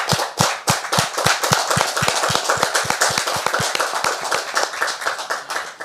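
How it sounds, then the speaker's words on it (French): A small audience applauds, steady close claps running continuously at a brisk pace with no voices. "Est-ce qu'on peut faire mention spéciale pour elle par des applaudissements"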